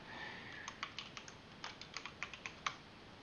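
Someone types a password on a computer keyboard, tapping out a quick run of distinct clicks in two short bursts, close and quiet, with no voice.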